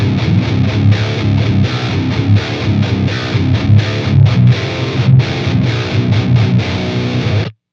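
High-gain electric guitar played through a Dual Rectifier amp with no boost pedal, a loud, heavily distorted riff of chugging palm-muted notes and chords that runs steadily, then cuts off abruptly near the end.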